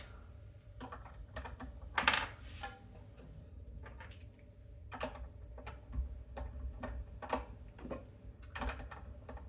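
Tuning peg on a Martin D18 acoustic guitar being turned during a string change, giving a quiet series of close, irregular clicks and ticks spread across several seconds.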